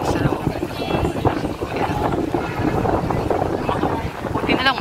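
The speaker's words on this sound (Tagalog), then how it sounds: "Buti na lang mahangin." Wind blowing outdoors near Manila Cathedral, a steady rushing buffet against the microphone that persists throughout while a person speaks.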